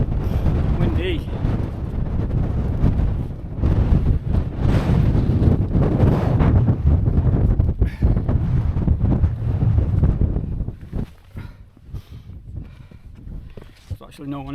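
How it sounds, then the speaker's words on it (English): Strong, gusty wind sweeps the summit of Bowfell in the Langdale fells of the Lake District, buffeting the microphone with a loud, rumbling roar. It eases noticeably toward the end, with a voice briefly audible. "Windy."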